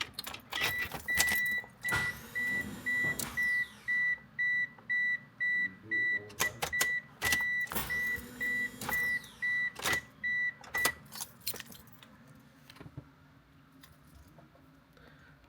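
A Mitsubishi Eclipse GST engine is cranked over and over, a loud rhythmic starter whir in repeated bursts with pops, while a steady electronic chime beeps alongside, then the cranking fades to quieter handling noises.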